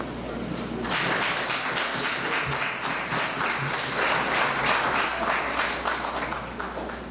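A crowd at an awards ceremony in Trinidad applauds steadily, a dense wash of clapping that swells and holds, with a few thumps mixed in.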